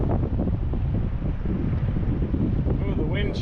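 Strong wind buffets the microphone on a river canoe trip in Algonquin, a loud continuous low roar and rumble with faint voices underneath.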